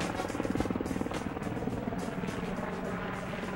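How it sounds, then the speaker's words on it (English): A steady, loud helicopter rotor drone with rhythmic blade chopping, continuous throughout and up close, from the video game Happy Feet. "And helicopter spinning blade."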